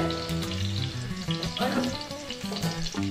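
Dried red chilies and small onions fry in oil for a fish curry, a soft close sizzle with light stirring under a tonal background hum, no speech.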